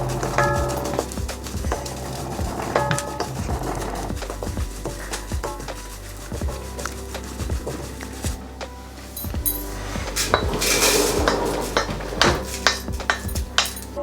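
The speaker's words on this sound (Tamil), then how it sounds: "எடுத்து வச்சுருந்த கருவேப்பிலையை முதல்ல இதுக்குள்ளே போடலாம் வறுக்கிறதுக்கு" Curry leaves roast and get stirred in a pan over low heat while homemade Jaffna curry powder is made. Metal utensils clink and scrape against the pan in a steady, busy rhythm of close, fairly loud knocks, with no talking.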